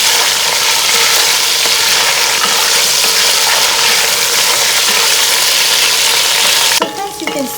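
Potatoes frying in a pan for biryani, a loud continuous close sizzle that holds steady and then drops suddenly near the end with a few clinks and scrapes.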